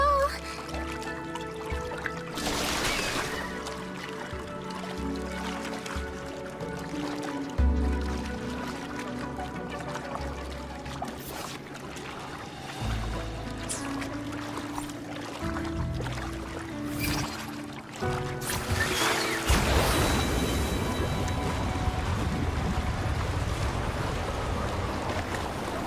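In the video game Wuthering Waves, a boat rides rushing water near a waterfall, a steady wash of pouring and splashing that swells near the end, heard beneath ongoing conversation.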